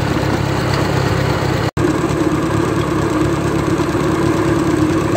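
A 1953 Ferguson TEA20 tractor engine idling low and steady, a continuous rough drone close up with one brief dropout, no voices.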